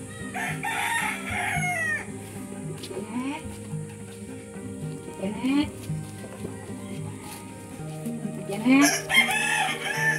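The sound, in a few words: many chickens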